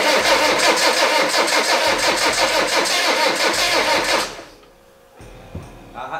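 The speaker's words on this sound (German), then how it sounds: "starten wir nochmal, weil der alte Motor läuft hier noch und theoretisch kann man damit auch fahren" An old Land Rover Defender with a weak, flat battery cranks and its engine runs loudly and steadily for about four seconds, then cuts out abruptly, leaving near silence with a few faint clicks.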